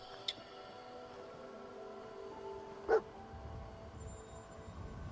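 Dogmeat, the dog companion in the video game Fallout 4, gives a single short bark over a low game ambience, with a faint click just before it.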